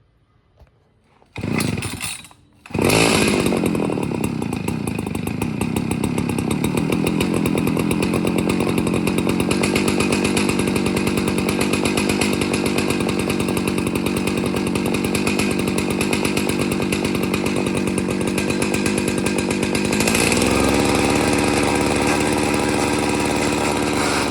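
A Tecumseh tiller engine starts after a brief cough and then runs steadily and loudly at close range, its buzzing drone holding constant and dropping slightly in pitch near the end.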